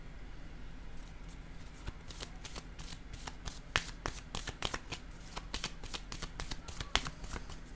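Tarot cards are shuffled in a series of quick, crisp riffles and flicks, irregular in rhythm and close by, with a quiet voice faintly present beneath.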